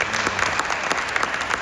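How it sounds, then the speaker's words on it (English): An audience at a Charles Drew University junior white coat graduation for the kids' science academy bursts into steady applause, dense and sustained, with a crowd murmur underneath. "give yourselves a round of applause"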